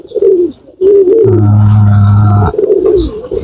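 A pigeon coos close by in soft, rolling low notes, a few separate calls with one longer drawn-out coo in the middle.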